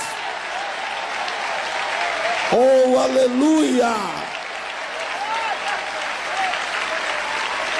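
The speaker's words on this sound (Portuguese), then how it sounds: "Palmas com mais glórias." A church congregation claps steadily throughout, loud and close, while a voice exclaims and calls out in Portuguese over the middle of the applause before it carries on alone.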